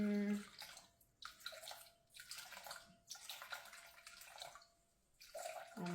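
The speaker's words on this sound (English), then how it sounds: "So we want 300 grams of warm water, first of all. Put that in here." Warm water is poured into a bowl set on a kitchen scale for French bread dough, coming in several separate splashing pours with short pauses between them, close and fairly quiet.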